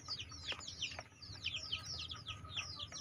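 Two-week-old chicks being raised in a breeding pen, chirping in quick, high repeated peeps with soft clucks, steady and fairly faint over a low hum.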